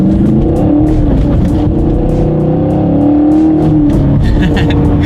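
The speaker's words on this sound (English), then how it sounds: "that exhaust crackle at the end there" A 2019 Chevrolet Camaro SS engine revs hard and climbs through the gears, loud and close, with sharp popping crackles from the exhaust.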